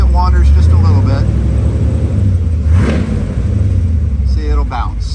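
A 1965 Corvette Convertible's engine drones loud and low through its exhaust, swelling briefly in a rev near the middle, with a voice speaking over it at both ends.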